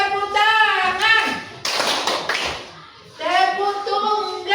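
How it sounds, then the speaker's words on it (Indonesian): A classroom of children clap their hands together in a dense, loud burst lasting about a second and a half. A teacher's voice and children's voices sound before and after it. "Tepuk tangan"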